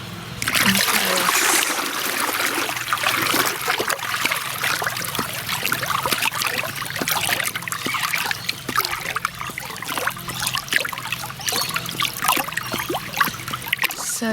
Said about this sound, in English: I'm just going to stir it in this and then transfer it to a smaller ceramic one